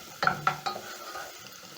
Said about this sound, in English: Once my onions are soft, I'm going to add in 3 cloves of garlic. Stir in and cook until fragrant.